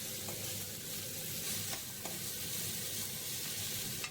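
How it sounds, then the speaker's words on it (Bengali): Spice mix for aloo paratha filling stirred in a pan, a faint, steady sizzle with soft scraping strokes throughout. "নাড়াচাড়া করে ভালো করে মশলাটা রেডি করে নিলাম"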